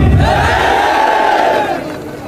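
A large crowd at a BSP party workers' rally in Rewa shouts a slogan in unison, one loud sustained roar of many voices close by that fades slightly at the end.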